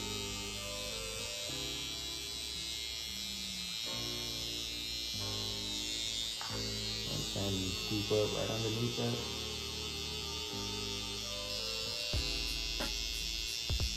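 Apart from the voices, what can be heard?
electric foil shaver on hair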